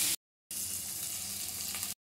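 Paneer cubes frying in hot oil and ghee in a kadai, a dense close sizzle heard in short bursts separated by brief silent gaps.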